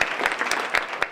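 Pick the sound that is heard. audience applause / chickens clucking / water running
audience applause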